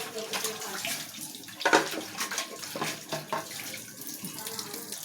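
Tap water runs and splashes continuously while plates are washed and scrubbed, with intermittent clinks of dishes and a voice talking over the flow.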